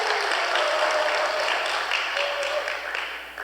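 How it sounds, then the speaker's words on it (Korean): Steady applause from a church congregation at a Sunday afternoon service, welcoming an assistant to the front, continuous and full before tapering slightly at the end. "박수로 환영해 주시기 바랍니다"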